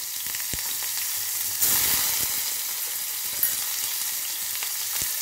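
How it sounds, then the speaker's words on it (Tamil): Mustard seeds, cumin, urad dal, dried red chilli and onion hit hot oil for a chow chow sambar tempering, giving a steady dense sizzle with a louder burst as ingredients drop in and a few sharp pops and clinks. "எண்ணெய் காஞ்சிருச்சு, கடுகு போட்டுக்கலாம். கொஞ்சம் சீரகம் போட்டுக்குங்க, கொஞ்சம் உளுந்தம் பருப்பு, ஒரு வர மிளகாய், வெங்காயம் போட்டுக்கலாம்."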